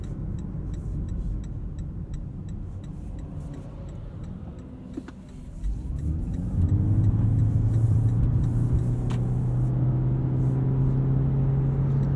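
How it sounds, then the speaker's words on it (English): A 2020 Toyota Prius XLE AWD-e drives along, its cabin filled with a steady broadband rush of wind noise from a roof rack that swells as speed builds, with a low drone joining partway through and faint ticking throughout. "Definitely hear the extra wind noise from this roof rack."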